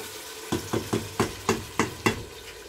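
Potatoes being lightly fried in a pan for lamb biryani, with about seven sharp, evenly spaced scrapes of a spoon stirring over a faint sizzle, close and with no talk.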